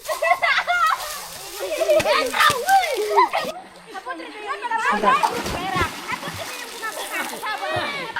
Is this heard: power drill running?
no